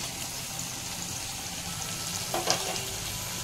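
Onions lightly frying in a pan give a steady, even sizzle throughout, with a brief brighter spatter near the end.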